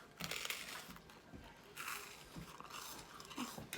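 Someone bites and chews hard, crunchy toast at breakfast close to the mic, giving a run of irregular crisp crunches, some louder than others, with no talk.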